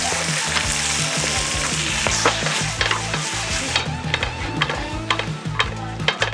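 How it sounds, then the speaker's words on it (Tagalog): Garlic, onion and tomato sautéing in a hot pan, a continuous close sizzle with stirring scrapes and small pops, no talking. "Sosutay tayo ng garlic, onion."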